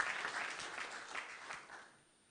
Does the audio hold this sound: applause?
yes